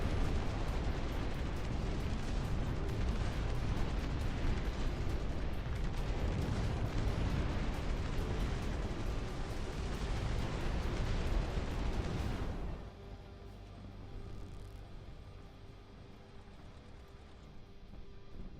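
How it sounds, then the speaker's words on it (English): Big guns thunder through a dense, continuous barrage of artillery fire and explosions on a real-time strategy battlefield in Dust Front, loud and sustained before cutting to a quieter rumble near the end. "All of our big guns are firing, which is perfect."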